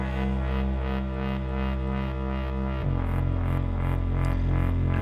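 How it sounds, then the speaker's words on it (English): A sustained buzzy synthesizer tone drones steadily, rich in layered harmonics, with a pitch shift partway through and a soft pulsing wobble throughout. "this is an additive synthesizer."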